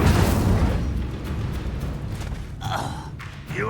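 Incendio fire spell cast during combat in Hogwarts Legacy on hard difficulty: a loud, continuous booming roar with a heavy low rumble, followed by whooshing, crackling bursts near the end, with no speech.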